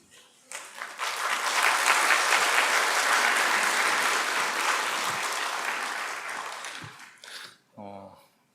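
Applause from a church congregation greeting a speaker at a Baptist service swells quickly, holds as a dense, steady clatter for several seconds, then thins out and stops, followed by a brief spoken phrase.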